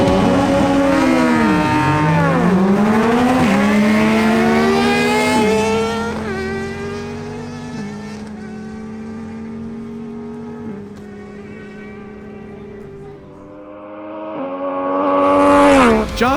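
Motorcycle engines roar through rising gear changes in a drag race between a Kawasaki Ninja ZX6R and a Yamaha MT-09. The loud, close revving climbs in stepped pitch, then fades, then swells again near the end.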